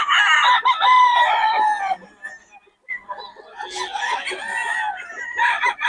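Young roosters (stags) crow repeatedly at a poultry seller's in Bocaue, several overlapping cock-a-doodle-doos near and loud, with clucking and someone talking over them.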